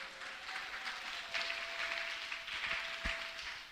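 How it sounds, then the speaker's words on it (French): A church congregation applauding and cheering the Lord, a dense steady wash of clapping with swelling cheers, filling the room continuously. "Acclame le Seigneur très très fort"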